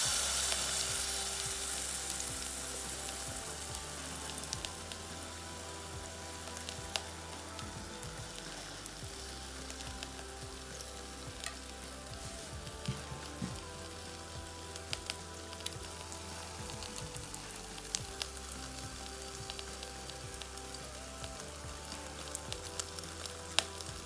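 Pancake batter fries in a frying pan with a steady, crackling sizzle, close and continuous, with occasional sharper pops and no talking.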